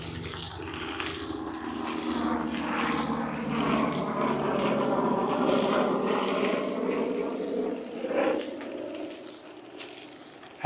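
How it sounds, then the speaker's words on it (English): An aircraft engine drones overhead for the whole stretch, a broad steady roar that swells and fades slightly, heard on a solo ride on the road; no speech. "had a helicopter flying over,"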